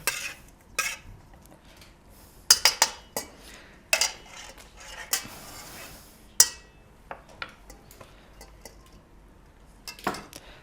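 Utensil clinks and scrapes against a bowl while ingredients are mixed with olive oil and vinegar in a restaurant kitchen, as sharp irregular taps and short bursts of stirring spread across the moment, close and fairly clear.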